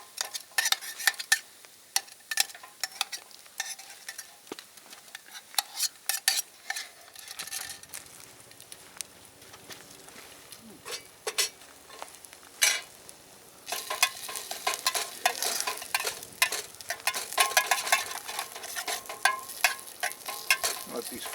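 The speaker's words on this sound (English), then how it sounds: "And then we're just going to fry these up for a few minutes." Dehydrated Spam fries in a metal canteen cup, a close, crackling sizzle with bursts of popping and utensil clinks against the cup, growing busier and louder partway through.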